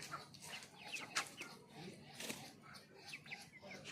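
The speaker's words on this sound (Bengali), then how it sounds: "আমার মুরগিগুলো আছে" Chickens clucking in a backyard garden where ducks also roam: scattered, fairly faint clucks and short calls come and go over quiet outdoor background, with a few sharper bird chirps mixed in.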